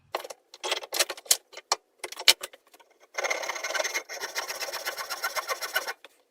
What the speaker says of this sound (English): We're going to now cut into these and the blade will follow that kerf line.